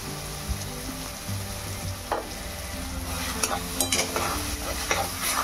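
Ridge gourd chutney mixture with salt and turmeric, green chilli, tomato and onion being stirred in a pan over a medium flame, giving a steady soft sizzle broken by scraping stir strokes that grow busier toward the end.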